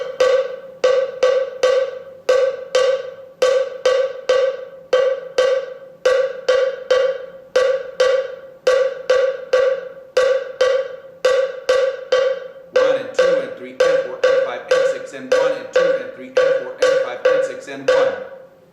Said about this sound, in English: That's done with a low bell. That is the low bell part.